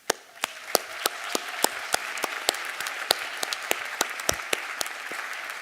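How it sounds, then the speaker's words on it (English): Applause at a Marywood University commencement ceremony, with a few distinct, close hand claps standing out in a steady rhythm over a softer bed of crowd clapping throughout. "by giving them a round of applause"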